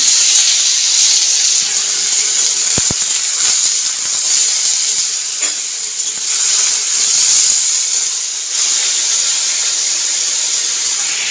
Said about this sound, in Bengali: আর এইদিকে দুধ জাল দিচ্ছি, দুধ হচ্ছে।